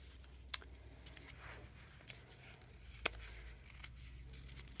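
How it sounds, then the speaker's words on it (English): Scissors cutting felt held with a pin, quiet close snips and crunches at an unhurried pace, a few sharper cuts standing out against a faint room hum. "if it doesn't cut very well, you want to try and make sure you're using the further back part of the scissors"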